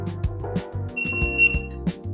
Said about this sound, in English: now it's on. It's beeping at me.